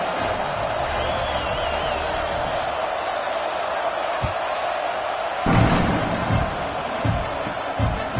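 Stadium crowd in the College Football 26 video game around a kickoff, a murmuring broadband crowd bed with a swell of noise and a few sharp thumps partway through, no clear speech.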